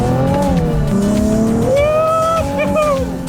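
A 2016 Nissan 370Z Nismo drifts with its traction control off, tires squealing loudly over a high revving engine that rises and falls continuously, close and alone without voices.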